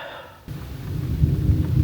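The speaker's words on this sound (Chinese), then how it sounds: "外面在下大雨，" After a brief quiet moment, a deep, swelling rumble of thunder rolls in under a steady wash of heavy rain in a village near Sapu sacred mountain, Tibet, growing louder toward the end.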